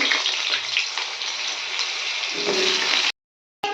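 Potatoes fry in hot oil in a pan, a loud close crackling sizzle that runs steadily for about three seconds before cutting out abruptly, then a brief return at the end.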